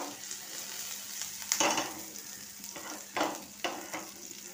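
Green chilli and garlic frying in oil in a frying pan, a continuous close sizzle broken by several louder stirring scrapes.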